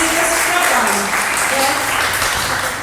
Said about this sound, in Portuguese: vamos dar umas palmas ali para eles